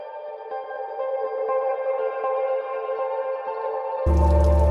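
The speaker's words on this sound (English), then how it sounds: "Guitar sounds." Guitar from a song plays a sustained, droning chord wash drenched in reverb and echo effects, steady and moderately loud, before a sudden louder, distorted burst cuts in near the end.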